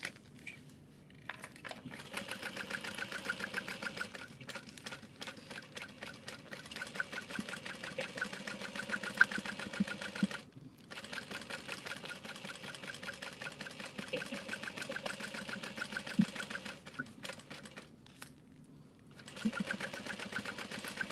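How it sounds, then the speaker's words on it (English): A sewing machine bastes fabric at an eighth-inch seam all the way around, its steady mechanical whir running close and fairly quiet, broken by brief pauses partway through and a longer stop near the end. "you're just going to baste at 1/8 of an inch all the way around"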